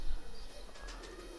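Pigeons on a rooftop pigeon loft, kept breeder pairs and flying birds, giving soft low coos close by amid faint background noise.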